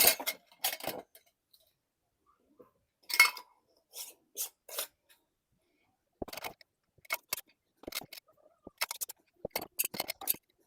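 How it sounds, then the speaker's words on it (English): Metal bands and lids on wide-mouth glass canning jars being twisted finger-tight by hand, giving a series of short, close, rasping scrapes in separate bursts with quiet pauses between them. "I'm just going to tighten these finger tight"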